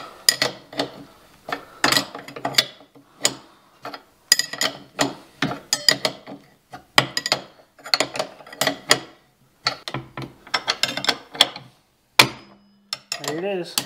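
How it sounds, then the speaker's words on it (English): A homemade puller works on the rear suspension of a Gen 4 Ski-Doo 850 snowmobile during track removal, making dense, irregular metallic clanks, taps and ratcheting clicks up close, with a brief mechanical whir near the end. "I got my little homemade puller out."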